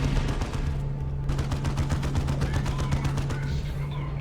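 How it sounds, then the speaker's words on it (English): Lascannon fire in the video game Dawn of War 2 during a 2v2 match: a rapid series of sharp energy-weapon shots in quick, even succession, loud and continuous for several seconds. "Doesn't like las cannons to his head though."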